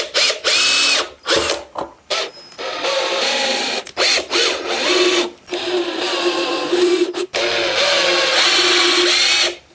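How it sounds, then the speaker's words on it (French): Cordless power drill driving screws into pallet wood while building a stool, with bursts of whining motor and rattling clutch separated by short pauses, close and loud with no talk. "Et plus qu'à visser."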